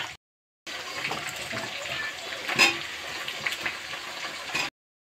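Potatoes are added to hot oil with lightly fried chopped onion for chicken biryani. An even, moderately loud sizzling hiss starts suddenly, holds steady with a brief flare, then cuts off.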